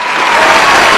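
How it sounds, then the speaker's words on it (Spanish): A crowd applauding a guest on a Spanish-language talk show, a dense, loud wash of clapping that fills the whole brief moment without a break or any voice on top. "Un aplauso primero,"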